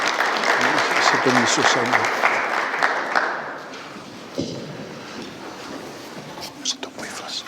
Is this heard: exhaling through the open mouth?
no